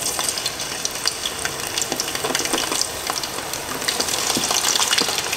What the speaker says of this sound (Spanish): Vamos a poner los plátanos ahí a que se fríen